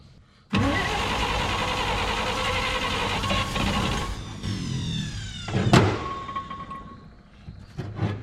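A long-neglected 1951 Chevrolet farm truck engine cranks and catches, then runs with a rough, loud idle for several seconds before a sharp burst and the sound fading toward quieter sputters.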